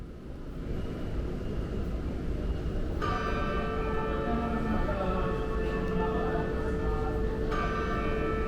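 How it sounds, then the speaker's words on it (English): Opening bell or chime at the Isetan department store rings out a few seconds in, its sustained tones ringing over a steady hum of indoor crowd and ambient noise. "here comes the bell to signify that it's opening"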